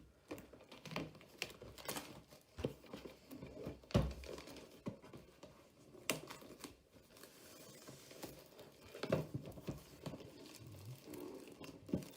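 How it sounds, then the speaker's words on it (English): Plastic packaging crinkles and tears as a Star Wars Armada model is unwrapped, a steady run of close, quiet rustles and sharp crackles with a few louder snaps and no voices. "Remove the plastic as best as possible."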